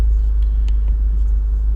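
A 2016 Subaru WRX engine idles steadily, a loud, continuous low rumble with no voices.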